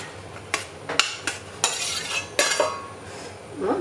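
A spoon stirs pieces of ribbon fish into curry gravy in a pot, with a few sharp scraping clinks against the pot's side scattered over about four seconds, close and fairly clear.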